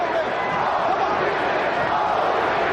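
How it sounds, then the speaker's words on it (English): Boxing arena crowd at the Lennox Lewis versus Evander Holyfield rematch, a loud dense roar of voices trying to chant Holyfield's name, steady and unbroken throughout. "Crowd trying to chant Holyfield."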